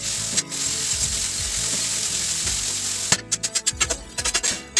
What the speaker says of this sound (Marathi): हे असं थोडंसं मध्ये मध्ये तुम्ही प्रेस केलं ना की टोमॅटो त्या कांद्या आणि बरोबर एकदम एकजीव होऊन जाणार